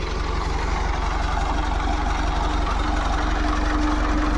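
A Shakthiman coconut frond shredder engine runs steadily, a loud, even, rapid throbbing drone with a dense mechanical rattle that holds constant throughout, with no voices over it.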